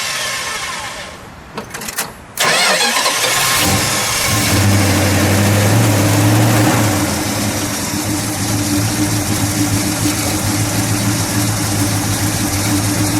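A 1970 Dodge Dart Swinger with a 340 V8 cranks after a few quiet clunks, catches with a loud burst, revs up briefly and then settles into a steady, rumbling idle close by, with no speech.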